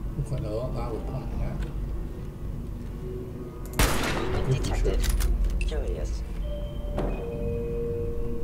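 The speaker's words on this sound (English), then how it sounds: "you totally didn't hear a gunshot" Gunfire in the Fallout 4 video game: a sharp, loud shot bursts out midway, followed by a few fainter cracks and clatter over background game noise and talk.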